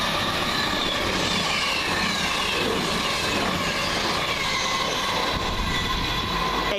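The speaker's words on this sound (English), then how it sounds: "It was only a matter of time before we saw one Super Voyager." Class 221 Super Voyager passenger train rushes past at a station in Coseley, a loud, continuous roar of wheels and engine with faint high squeal, steady throughout.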